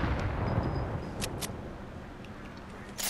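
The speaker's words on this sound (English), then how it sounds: "Whoever's shooting at me needs to stop it." Gunfire in the Fortnite video game: a few sharp, brief shots ring out over a steady noisy game background, fairly distant and not very loud.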